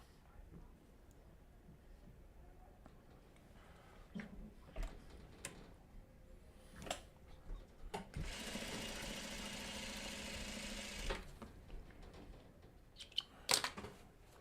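Sewing machine stitching a quilt block, with a steady motor whir running for about three seconds between scattered fabric-handling clicks and taps in a quiet room.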